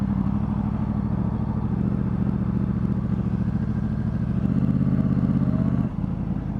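A motorcycle engine runs loud and close with a steady low drone, rising slightly as the bike edges forward through slow traffic, with a brief dip near the end.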